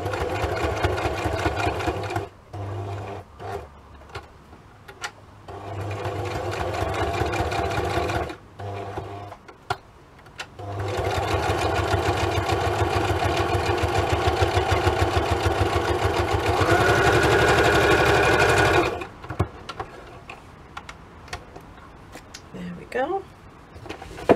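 A sewing machine stitches a tab top onto fabric in long, steady runs of fast rhythmic whirring, stopping briefly between runs, heard up close and loud.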